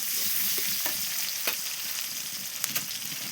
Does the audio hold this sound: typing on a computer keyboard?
no